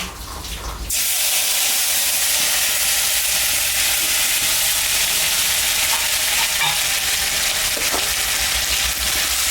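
A paste of ginger, cumin, dried chili, garlic and onion hits hot oil with a sudden loud burst, then settles into a dense, continuous sizzle and hiss with faint stirring sounds, and no one speaks.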